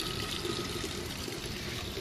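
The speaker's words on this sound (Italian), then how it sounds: "Anche il nasone tipica fontana romana, è caratteristica" A nasone, the typical Roman street drinking fountain, runs with a steady broadband rush of falling water in the open night air, continuous and fairly faint.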